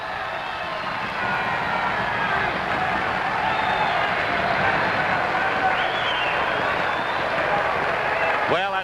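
A boxing arena crowd roars and applauds at the close of a round in the Jimmy Carter versus Percy Bassett fight, a dense sustained wall of noise with a commentator's voice running over it.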